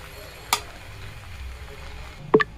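Coca-Cola noodles tossed with sprinkled spices in a pan: a faint, low sizzle with two sharp, close spatula knocks, one early and one near the end.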